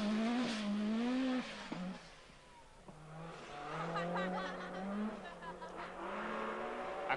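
Malcolm Wilson's English MG Metro rally car at the 1986 Swedish Rally, its engine note rising and falling in loud, strained sweeps as it races past under steady background noise.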